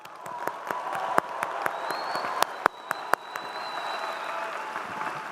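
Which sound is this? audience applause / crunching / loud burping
audience applause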